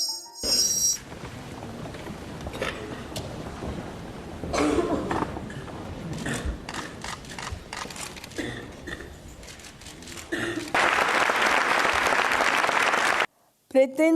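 Ovation and cheering for a writer receiving the Premio Cervantes from King Juan Carlos of Spain, a long wash of clapping that swells into a dense, loud roar near the end before cutting off.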